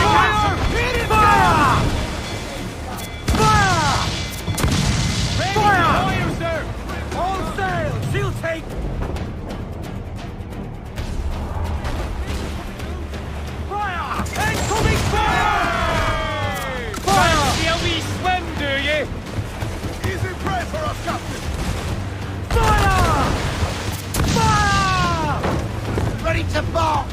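Ship cannons boom in repeated volleys during a naval battle in Assassin's Creed IV Black Flag, loud blasts and rumbling over music and shouted crew voices throughout.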